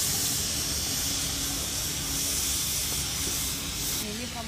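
Onion and tomato frying together for a crab masala give a steady, close hiss of sizzling oil that holds evenly throughout, with a faint voice in the background.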